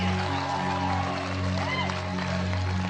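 An audience at a motivational speaking event gives dense, continuous applause, a steady wash of clapping under a low tonal hum.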